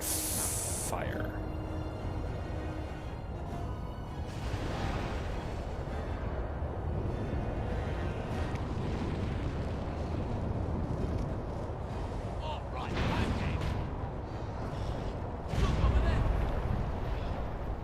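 Fire spell cast in the Dragon Age: Origins video game: a hissing, roaring burst of flame that flares up and trails off, followed by later whooshes under game sounds and talk.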